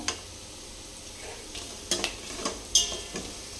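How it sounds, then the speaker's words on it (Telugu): Whole spices such as star anise, cardamom, bay leaves and cinnamon frying in hot oil for bagara rice, a low close sizzle under a few sharp metallic clinks and scrapes of a ladle against the pot, with no speech. "ఇవి బాగా ఫ్రై అయ్యాయి కదా అండి."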